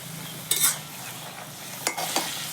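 Taro leaves stirred in a pan with turmeric, green chili and salt, giving soft scraping stirs with two brief louder clatters of the spoon over a faint steady sizzle.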